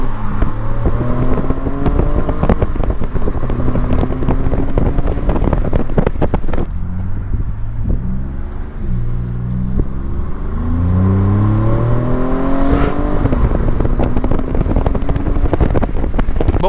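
A Ford Raptor truck driving off-road, its engine growling and revving through rising and falling gear pulls with heavy wind buffeting the microphone, loud and continuous throughout.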